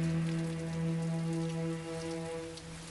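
Rain falling as a steady, even hiss of drops, heard alongside sustained tonal droning music throughout.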